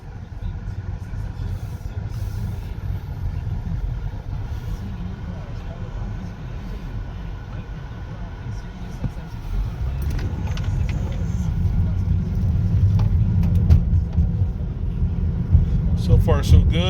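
A Chevy truck with a power steering fault and steering angle sensor problem is driven on a test drive, its low engine and road rumble steady throughout while someone talks over it.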